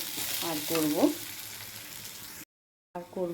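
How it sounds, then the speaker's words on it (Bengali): Moong dal frying in a pan sizzles steadily with stirring scrapes, close and moderately loud, broken by a brief cut of silence before the sizzle resumes. "এখানে আমি দেখো মুগ ডাল ভাজা করছি"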